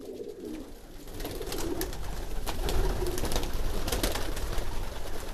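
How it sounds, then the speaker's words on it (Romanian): Breeding pigeons courting in their loft, giving repeated low, rolling coos, close and continuous, with light rustling and no talking. "Porumbeii se bat la cui foarte frumos."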